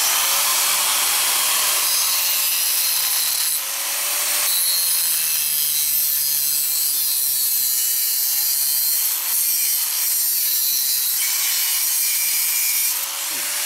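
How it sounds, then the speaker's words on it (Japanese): A chrome-plated pipe is cut with a saw in a workshop, a loud, continuous rasping grind with steady back-and-forth strokes that carries on at close range with no pause. "こちらのパイプ、メッキパイプ、こちらを切ってくっつけていきます。"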